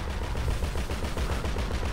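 A machine gun fires in a video game attack on a military base, a loud, steady rapid stream of shots that runs without a break from start to finish.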